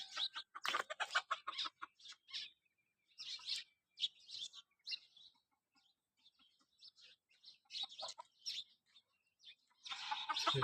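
Rooster and hens clucking near a coop, with scattered sharp calls and chirps coming in irregular bursts, loud at the start and again at the end, with quieter gaps between.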